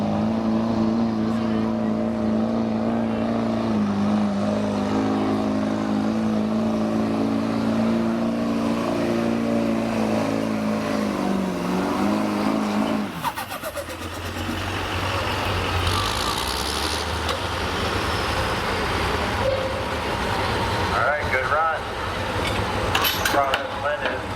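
A heavy diesel pulling truck engine roars under strain at high revs at a truck pull, then drops off abruptly, followed by lighter mechanical rumble and faint crowd noise.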